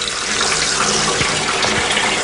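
Cold water gushes loudly and steadily from a tap, a close, continuous splashing rush with no voices.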